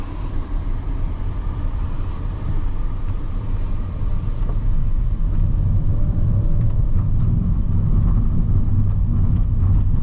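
Inside a 2023 Nissan Kicks VL e-POWER under acceleration, a steady low road rumble and drivetrain hum build and stay loud throughout, with no talking.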